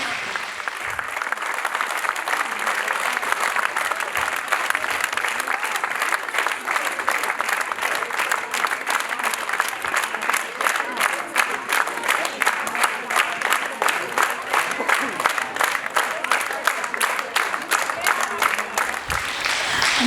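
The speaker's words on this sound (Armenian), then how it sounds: "Ավելի բարձր ծափահարեք նրանց" An audience applauds children on stage at a vocal studio concert, loud sustained clapping from a full hall that holds steady for the whole stretch, with faint crowd voices mixed in.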